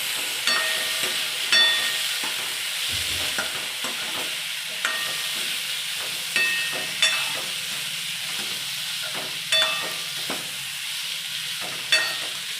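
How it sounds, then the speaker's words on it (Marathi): Potatoes fry in a pan with a steady sizzle while a spoon stirs and scrapes them in repeated sharp strokes every second or so, close and fairly loud with no voices. "ह्याच्यामध्ये आपण बटाटा टाकूया आता हे हलवून घेऊया"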